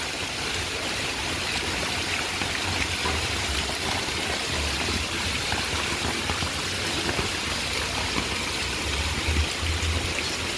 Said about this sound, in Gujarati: તમને અવાજ આવતો હોય ને તો જો કેવો ગાજે છે વરસાદ